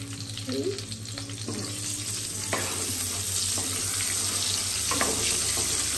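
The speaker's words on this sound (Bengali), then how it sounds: "এবার আমি তেজপাতা দিয়ে দেবো।" Bay leaves dropped into hot oil for a prawn malai curry, giving a steady sizzling hiss with faint crackles, close and fairly even, accompanied by a low steady hum.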